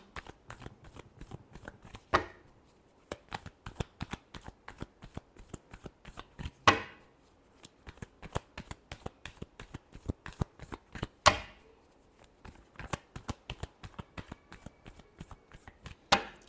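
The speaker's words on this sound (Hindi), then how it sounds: "last shuffle" Tarot cards are shuffled by hand in a quick, steady run of crisp riffling flicks, close and fairly quiet, broken by a few louder slaps as the deck is squared, with no talking.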